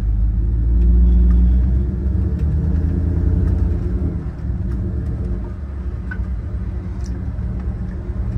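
A 1978 Ford Bronco XLT Ranger with a Coyote V8 swap drives along, its engine giving a steady, loud low rumble that swells early on and then settles into a continuous drone, with no talking.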